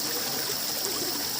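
Cold mountain water flows in a steady stream along a hiking trail to Bishnudwar, a constant close hiss and gurgle with no voices.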